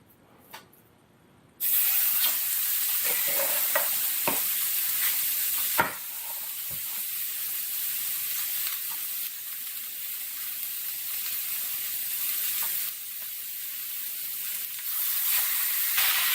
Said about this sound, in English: Salisbury steaks cooking, and we'll give it a few minutes